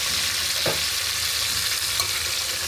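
Fenugreek leaves fry in a pan with ghee for rice, giving a steady, close hiss of sizzling with a brief stir or scrape partway through.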